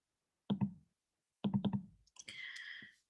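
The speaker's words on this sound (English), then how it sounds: "Click continue and OK." Computer mouse clicks in three quick bursts of two to four sharp taps each, close and clear, ending in a brief higher-pitched chime.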